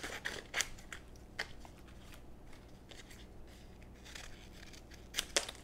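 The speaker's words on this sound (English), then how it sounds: "I'm going to cut a strip of sandpaper" Scissors cut a strip of 320 grit sandpaper, giving sharp, crisp snips and rasping crunches spaced irregularly, fairly quiet and close, with soft paper rustling between cuts.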